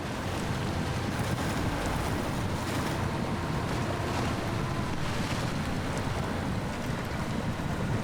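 A video game truck drives in high gear through a muddy swamp bog while hauling a load. The engine and churning mud make a dense, continuous rumbling wash throughout, with no voices.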